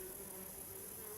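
Wasps buzz close by near their nest, a thin steady drone with a faint lower hum and no talking.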